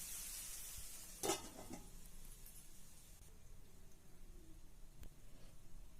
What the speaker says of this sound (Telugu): ఇలా టూ మినిట్స్కి ఒకసారి ఈ కాకరకాయ ముక్కల్ని కలుపుతూ ఉండాలి